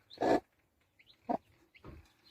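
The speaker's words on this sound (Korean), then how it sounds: "백봉오 골게 오봉이가 병아리를 부화했다" Silkie hen with newly hatched chicks, giving three short soft clucking and peeping calls close by with quiet gaps between them.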